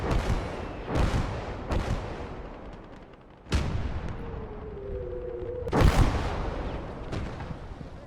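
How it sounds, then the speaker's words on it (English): Artillery fire in the WWII strategy game Gates of Hell: Ostfront: heavy booming shots land at irregular intervals, a few seconds apart, over a steady battlefield rumble, with a thin whistling shell passing mid-sequence. "I was happy for his artillery to just keep firing there"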